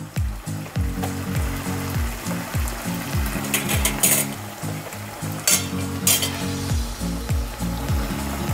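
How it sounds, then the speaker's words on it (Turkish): Al dente pasta with some cooking water goes into a pan of sizzling sauce, making a steady loud fry with repeated clattering stirs and tossing scrapes up close. "Makarnayı tavaya almaya başlıyorum."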